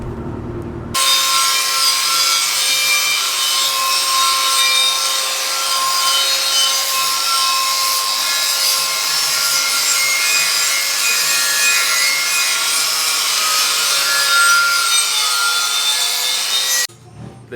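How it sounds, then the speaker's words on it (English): A wire wheel scours an exhaust manifold branch for a B20 VTEC engine, a loud, continuous abrasive hiss and rasp that holds steady for about sixteen seconds before cutting off abruptly. "We are just busy sanding it down with a wire wheel"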